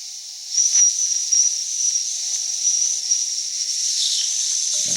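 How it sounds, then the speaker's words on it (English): Steam whistle on a Jensen Model 25 model steam engine being opened to vent leftover pressure: a steady, close, breathy hiss carrying a thin high whistle tone throughout, swelling slightly early on and holding fairly even to the end. "We'll open the whistle here and just vent any remainder."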